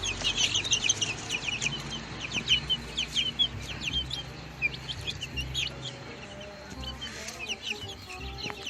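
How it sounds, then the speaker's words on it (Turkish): Dwarf Cochin chickens in a backyard coop cluck and chirp repeatedly in short bursts, fairly close, with soft background rustle and no talking. "Şu arkada cüce koşinlerimiz var."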